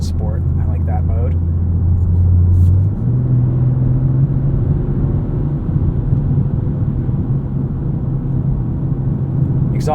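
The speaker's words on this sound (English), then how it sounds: "Exhaust sounds really nice in sport mode." A 2023 BMW M340i xDrive in sport mode hums with a steady, loud low exhaust drone from inside the cabin, stepping up in pitch around three seconds as it pulls along, with no one speaking.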